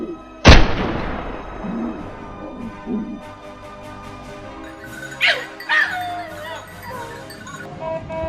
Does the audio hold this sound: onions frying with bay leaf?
no